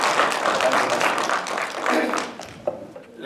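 Audience applause in a Mexican congressional human-rights session, welcoming Dr. Javier López Sánchez, representative of Chiapas; dense, steady clapping that swells and then thins out near the end.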